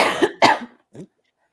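A close, loud cough in two quick bursts, followed by a smaller throat-clearing sound, then silence.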